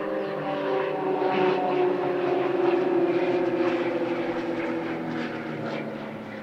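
Propeller drone of Extra 330 LX aerobatic planes making a two-versus-two opposition pass at the Leszno airshow, a loud sustained engine roar that swells and gently fades, with no talking.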